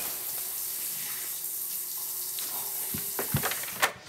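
Water runs steadily from a shower, a close, even hiss of spray with a few knocks and splashes near the end and no voices.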